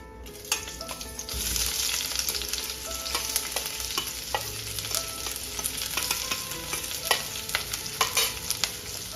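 Onion, curry leaves, garlic, ginger and green chillies sizzle in hot oil in a pan, a steady fry hiss broken by sharp clicks of a spoon stirring against the metal, close and alone without talk.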